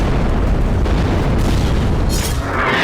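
Heavy explosions in Gaza, set off by Israeli robots sent to buildings, roll as a loud, continuous booming rumble with no pause for nearly three seconds.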